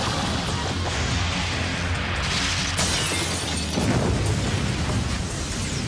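A loud, continuous roaring blast from a cartoon energy cannon attack in Bakugan: New Vestroia, with crackling bursts and booming surges, filling the whole clip without pause.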